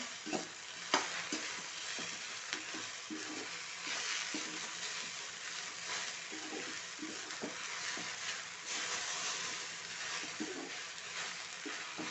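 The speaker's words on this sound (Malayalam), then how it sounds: "നന്നായി ഇളക്കി കൊടുക്കുക" Okra stir-fry being stirred in a pan, a soft steady sizzle with regular spoon scrapes and taps recurring throughout, fairly faint and close, with no voices.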